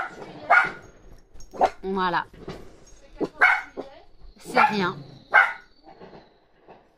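Dogs bark and yip at night while a neighbourhood party sets off fireworks, with sharp, close barks breaking out in bursts between short stretches of French speech.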